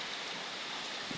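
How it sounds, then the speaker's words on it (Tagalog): Heavy rain pours during Typhoon Christine, a dense, steady hiss of downpour filling the scene without pause, fairly loud and unbroken, with no one speaking. "Ang grabing lakas ng ulan din eh."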